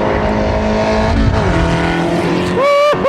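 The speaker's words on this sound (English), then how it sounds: "this car is the loudest car I've been in on track" A Spec Racer Ford race car on track at Thunderhill, its engine roaring loud and close as the revs climb and drop through the shifts, ending with a brief whine.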